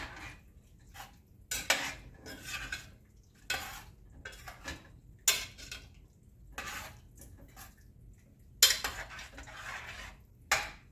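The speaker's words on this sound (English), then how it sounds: "All right, let's stir that up." Minestrone soup with frozen mushrooms stirred in a pot, a spoon knocking and scraping the pot in a string of separate clinks and scrapes with quiet gaps, no voices.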